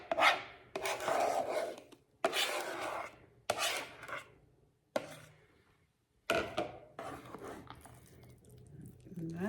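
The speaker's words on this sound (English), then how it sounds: "So I am just gonna fold this into my strawberry mixture" Whipped cream folded by hand into a strawberry rhubarb chia pudding mixture, giving soft scraping and squishing strokes in several bursts separated by short pauses, close and moderately loud.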